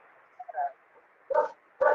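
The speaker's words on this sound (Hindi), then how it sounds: "आपकी जगह पे आपका कुत्ता भौंक रहा है।" A dog gives a couple of soft, muffled yips followed by two louder, sharper barks, fairly close and with brief pauses between them.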